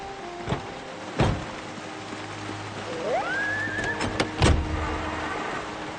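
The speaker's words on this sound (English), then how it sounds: "I should be taking the rancher truck." Rancher pickup truck in the Project Zomboid video game, with a couple of sharp door thuds, a brief whirring mechanism and a low steady engine rumble underneath, heard alone without speech.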